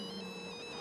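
A phone ringtone plays steadily in a zombie film scene, a sustained electronic tone with bright repeating upper pitches, clear and continuous for under a second with no talk over it.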